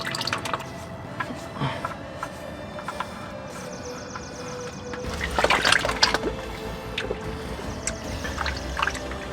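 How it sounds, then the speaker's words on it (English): Engine oil draining from a Jeep JL 2.0L turbo into a pan, a steady trickle and dripping of liquid outdoors with faint background noise and a brief louder clatter midway. "let's get this thing drained and get this job wrapped up before I lose all of the sun."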